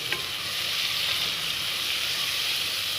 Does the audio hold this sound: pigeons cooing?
no